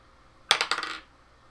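Dice rolled across a hard surface during a tabletop game, a short rattling clatter of several quick bounces that fades within half a second, heard alone.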